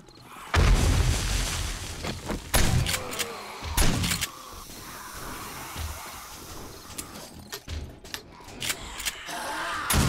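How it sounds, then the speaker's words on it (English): Pipe bomb explosions in the zombie survival game 7 Days to Die: several heavy booms and sharp bursts go off close by in irregular succession, with a rumbling low-end tail between blasts and no talking. "Thank the Lord for pipe bombs."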